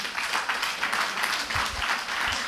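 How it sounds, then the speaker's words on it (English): A round of applause from the audience at a fisheries forum and memorial award ceremony, a moderate, even spread of many hands clapping at some distance, sustained throughout. "Please give a round of applause again"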